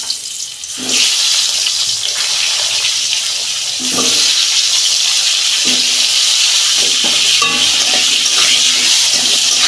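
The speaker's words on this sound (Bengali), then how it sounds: "ওই তেলে আমি আলুগুলো ভেজে নিচ্ছি" Potato pieces frying in hot oil in a pan, a loud continuous sizzling hiss that stays steady throughout, with a few brief clicks from stirring and no talk.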